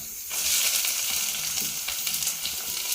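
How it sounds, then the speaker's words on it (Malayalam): Chopped taro stems hit a hot pan of coconut oil and fry with a loud, steady sizzle from close by that keeps going throughout, with only faint stirring and no voices. "ലേശം വെളിച്ചെണ്ണ വെച്ച് കൊടുത്തതിന് ശേഷം നമ്മൾ അരിഞ്ഞു വെച്ചിരിക്കുന്ന ഈ ചേമ്പിൻ്റെ തണ്ടുണ്ടല്ലോ അതിലേക്ക് പിഴിഞ്ഞിട്ട് കൊടുക്കുക"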